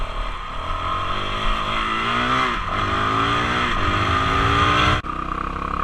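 A 2019 Honda CRF450L dual-sport motorcycle ridden off-road, its single-cylinder engine droning steadily with rising and falling revs as the rider shifts, loud and close, under heavy wind noise.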